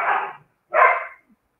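Two short, loud, close dog barks with a pause between them, from female dogs squabbling in a yard, with no other sound around them.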